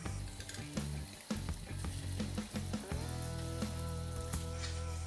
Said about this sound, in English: We'll cook this down for about 2 to 3 minutes until it's soft but not coloured.